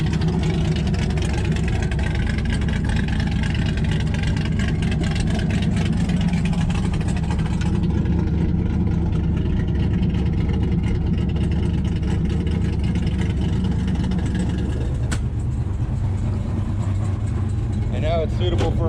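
A 1968 Dodge Hemi Charger R/T cruises with a deep, continuous low engine burble that stays fairly loud and even, the tone shifting slightly partway through.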